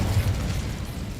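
An Incendio fire spell in Hogwarts Legacy sets off a short, deep whooshing burst of flame. A heavy low rumble runs for about a second with no talking.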